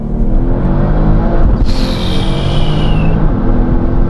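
An Audi TT R36 Turbo accelerating hard, its engine a loud, dense, continuous roar heard from inside, with a rising turbo whine midway through the pull and no talk.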